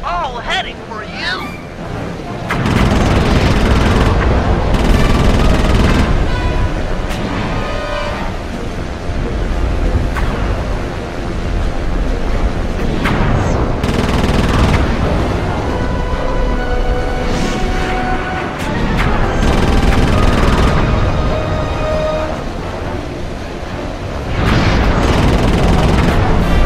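Loud repeated bursts of gunfire and booming blasts during an aerial combat stage of the Sly 3 video game, heavy and sustained, with in-game voices mixed in.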